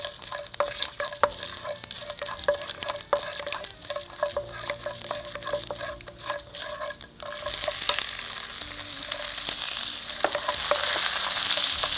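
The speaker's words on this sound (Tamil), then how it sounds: "உளுந்து லேசாக பொன்னிறமானதும் நம்ம இந்த வெங்காயம் சேர்த்துக்கலாம்." Onion and golden urad dal fry in a pan as a spoon stirs and clinks against the metal. The sizzle builds into a steady, louder hiss toward the end.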